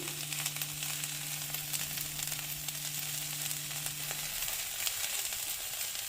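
Asafoetida and a bay leaf sizzle in about three spoons of hot oil while a curry is being started, a steady, close frying hiss running throughout with a low hum that stops near the end.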